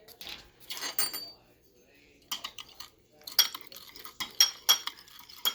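A utensil stirs sour cream sauce in a bowl, with irregular clinking and scraping bursts separated by short quiet gaps, growing quicker toward the end.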